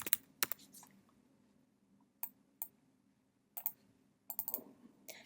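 Computer mouse clicks in a quiet room, several short sharp taps with some in quick pairs like double clicks, spread irregularly over a few seconds with a faint low hum between them.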